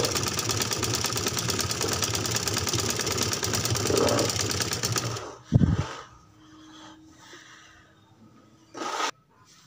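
A sewing machine runs steadily for about five seconds, stitching folded fabric along both sides of a baby frock, then stops. Brief handling knocks and quiet rustling follow.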